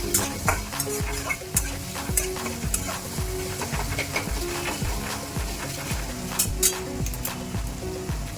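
Onion and gram flour zunka being stirred in a hot pan, a steady sizzle and frying hiss with repeated scraping strokes of the spoon in a quick, even rhythm, close and clear with no talking.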